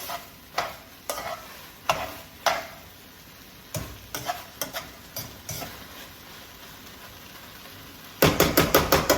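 Beef, onion and broccoli stir fry being stirred in a pan, with sharp intermittent scrapes and knocks of the utensil over a low sizzle, ending in a quick rapid burst of clatters, close and loud, no talking.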